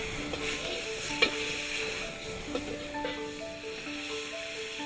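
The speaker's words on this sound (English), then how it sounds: "So first you add the meat and the garlic. And stir that up really quickly." Meat and garlic hit smoking-hot oil in a pan for Thai pad see ew, giving a loud, steady sizzle with clatter from quick stirring throughout.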